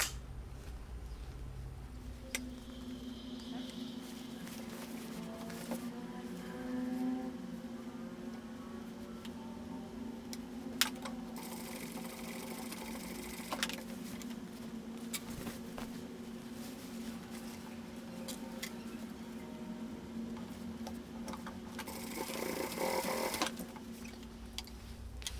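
Sewing machine stitching a fabric bag, a quiet steady whirring hum running throughout with a few sharp clicks and short bursts of brighter mechanical noise.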